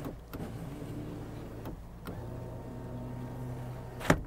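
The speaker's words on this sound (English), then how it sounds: "Even winding the windows down actually." A car's electric power window motor winds the glass down with a smooth, quiet hum. It starts and stops a couple of times and ends with a soft thunk at the close, heard alone in a quiet cabin.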